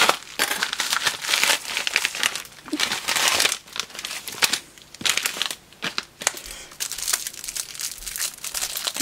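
Plastic bags from a mail delivery are crinkled and unwrapped close by in irregular bursts of loud rustling and crackling, with short quiet gaps between handfuls and no speech.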